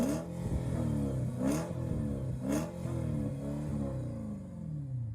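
A naturally aspirated V8 engine in a Mercedes-Benz S-Class (W221) revs repeatedly, pitch climbing and falling in several sweeps with sharp crackles at the peaks, heard fairly close.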